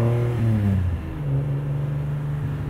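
A custom 1974 Datsun Fairlady 260z with a stroked motor and Weber carburetors revs up, then settles into a deep, rumbling idle, its engine tone close and loud throughout.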